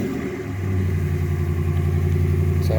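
A Ram 1500 pickup truck engine runs steadily just after starting, following a no-crank fault, with a close, loud idle drone and a faint rise toward the end.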